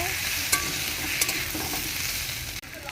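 Potatoes frying in a pan are stirred, producing a steady close sizzle with a few sharp scraping clicks from the utensil, and no voices.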